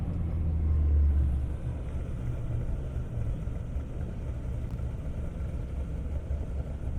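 Toyota Supra driven by Julian at an airstrip drag racing event, giving a steady, fairly distant low engine rumble that swells briefly near the start, then holds as a continuous drone.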